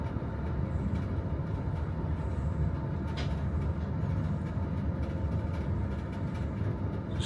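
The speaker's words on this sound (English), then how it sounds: "how long can trains be?" A long freight train of cargo cars rolls past near the line on the Chicago–San Antonio route, producing a loud, steady, continuous low rumble and rattle that holds for the whole stretch without a break, and no one talks.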